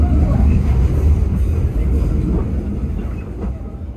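A train rumbles past on an elevated railway track near Surabaya Kota, a loud, close, heavy roar with faint wheel clatter that slowly eases toward the end.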